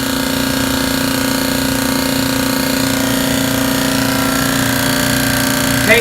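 A tankless air compressor on a fire sprinkler dry pipe valve setup runs with a loud, steady mechanical drone and rapid pulsing, continuous and close throughout.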